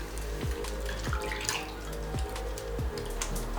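Water splashes and trickles steadily at a sink while a spin-care facial cleansing brush attachment and a face are rinsed, with a few soft, irregular thumps from hands moving through the water. The sound is close, continuous and free of talk.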